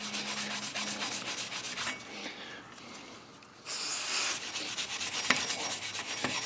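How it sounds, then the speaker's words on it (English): A wire brush scrubs rust off the front brake hub of a Chevy Silverado. The close, rough, steady scraping runs throughout, drops away briefly midway, then returns loud and harsh. "Just with a wire brush."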